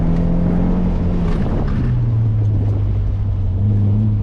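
A car on an autocross course accelerates, its engine drone loud and close, the pitch holding then dropping to a lower steady note as it pulls through; no one speaks.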